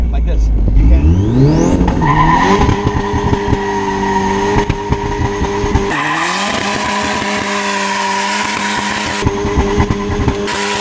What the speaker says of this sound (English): What if I just drop the clutch right here, like this?